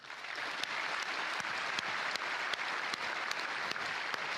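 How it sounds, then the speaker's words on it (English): Audience at a CCP games presentation claps in steady, sustained applause, a fairly quiet even wash of many hands with a few sharper claps standing out. "And let's all give him a huge applause."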